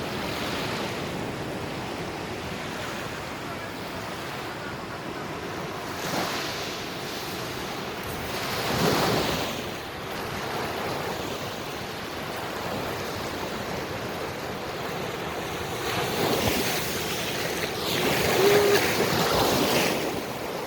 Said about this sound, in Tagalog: Lakas ng alon, no?